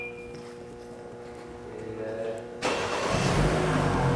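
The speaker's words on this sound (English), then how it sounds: "in a few seconds the car will start" A 2014 BMW 528i engine starting via a Viper remote starter: a quiet hum and faint clicks, then the engine catches abruptly and settles into a steady idle rumble.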